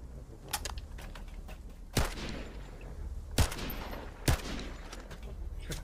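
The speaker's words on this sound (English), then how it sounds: "Bullets need to fire a little faster, I think." Rapid bursts of gunfire from the looter shooter The First Descendant, with several sharp loud shots standing out over a steady crackle of weapon fire.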